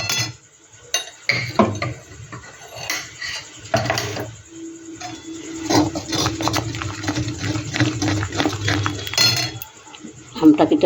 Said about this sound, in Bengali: আমটাকে এটা ভালো করে মিশিয়ে নিব।